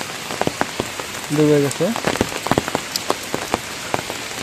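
Rain falls steadily on waterlogged canals and rice paddies that are completely flooded, a dense soft patter with scattered sharper drops and a brief voice speaking partway through.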